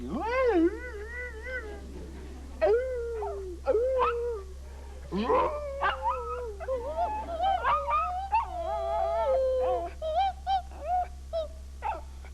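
A dog on a 1979 children's TV show howls in a wavering, sing-song way, with rising and falling pitched cries running almost continuously at close range.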